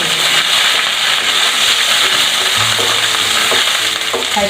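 Ginger and green chillies sizzle loudly in a hot pan during stir-frying for vermicelli upma, a continuous close crackle and hiss with occasional scrapes as they are tossed, and no voices.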